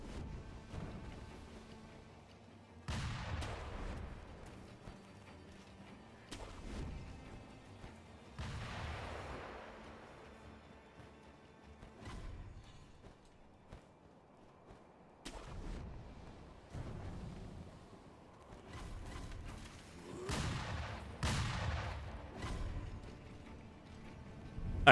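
Sniper shots ring out in a video game valley, sharp booming cracks spaced several seconds apart and echoing at moderate distance, with a few quicker clusters of reports later on.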